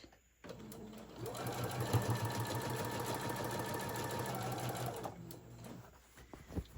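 A sewing machine back-stitches a tote bag seam in one steady run of about five seconds, a close, even motor whir with rapid needle chatter, starting and stopping abruptly.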